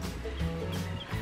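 A full-grown male turkey (tom) on a homestead gobbles and clucks in short, close, fairly loud bursts over about a second, with no voices.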